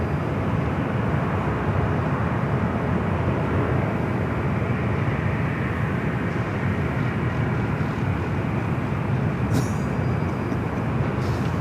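Delta Airlines Boeing 737-800 taking off from runway 24 left at Los Angeles airport, a loud, steady jet engine roar that holds for the whole stretch without any voices.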